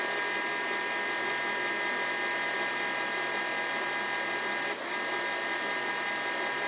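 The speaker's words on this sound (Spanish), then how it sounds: "Y ahora sí vamos a imprimir." An HP LaserJet Pro M15w laser printer runs a page, giving a steady, close mechanical whir with a broad hum that holds throughout. One brief dip comes near the end.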